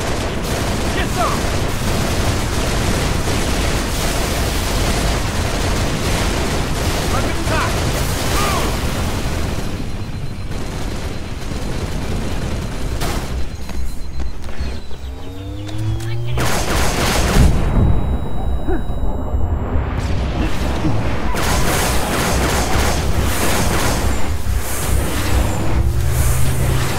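Gunfire and explosions from a Halo Reach campaign battle, with dense continuous bursts of shooting and booming blasts throughout, loud and close, and several sweeping whooshes partway through.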